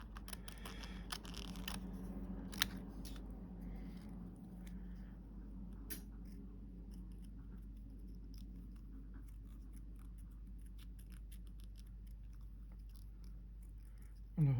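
Cutting out a miniature cake plate by hand: faint, scattered snips and small clicks spread over a quiet stretch, close by, with no voices.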